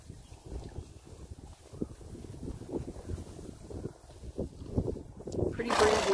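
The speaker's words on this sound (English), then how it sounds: "Pretty breezy day." Gusting wind on a breezy day at a horse pasture, rumbling against the microphone in uneven buffets that grow louder toward the end, with someone talking over it.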